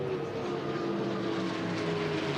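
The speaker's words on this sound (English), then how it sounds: "those P-51s sound incredible" P-51 fighter planes pass overhead during a powerboat speed shootout, making a continuous loud droning engine roar that holds steady throughout with no talking.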